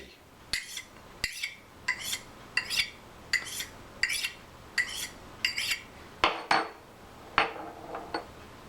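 A hunting knife is drawn repeatedly across a sharpening stone in a dozen crisp, evenly paced rasping strokes, each a short scrape following a light tap, close and clear with no talking.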